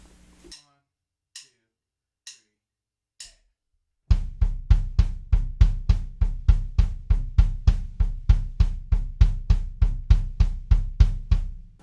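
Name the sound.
double bass drum triplet diddle pattern with hi-hat eighths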